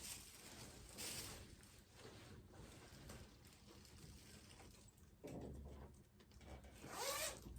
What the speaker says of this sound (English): I can unzip the project.